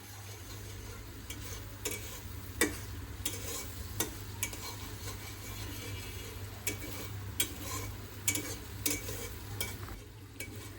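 Butter cooks down into ghee with a faint, steady bubbling sizzle, while a spoon stirs and clinks against the pot at irregular intervals over a low hum.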